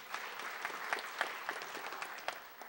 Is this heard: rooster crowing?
no